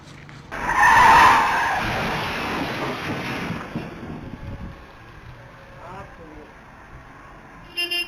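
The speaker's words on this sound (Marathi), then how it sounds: "भरधाव कार थेट चिकन विकणाऱ्या दुकानामध्ये घुसल्याचं पाहायला मिळतंय।" A speeding car skids and crashes into a roadside chicken shop: a loud burst of tyre and impact noise hits early, then trails off into a lower rumble, with a brief horn-like blast near the end.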